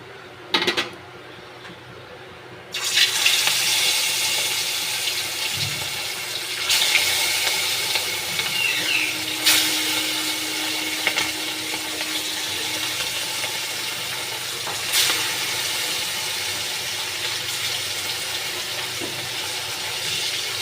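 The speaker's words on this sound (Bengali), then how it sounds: "দেখে নিন আমার তেলটা গরম হয়ে গেছে। এবার আমি মাছগুলো ছেড়ে দেব।" Hilsa fish pieces sizzle in hot oil, a steady broad frying hiss that jumps louder once the fish goes into the pan and carries on evenly with occasional crackles, no talking.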